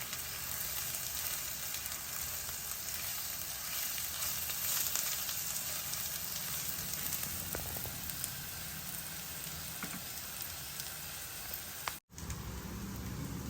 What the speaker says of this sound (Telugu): ఉల్లిపాయలు బాగా వేగాలండి వేగితేనే ఆ ఫ్లేవర్ బాగుంటుంది